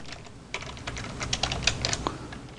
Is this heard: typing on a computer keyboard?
yes